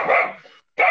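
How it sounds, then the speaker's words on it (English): Dogs barking loudly and close, two sharp barks separated by a brief silence, with no talk over them. "Them dogs, they sound like them want to murder somebody."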